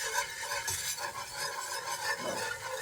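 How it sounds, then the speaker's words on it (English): Flour toasting in turkey pan drippings for gravy, a soft steady sizzle with a scraping stir of a utensil across the pan, close and quiet with no voices. "we're going to just toast it a little bit more so we get the flour doesn't have that doughy taste"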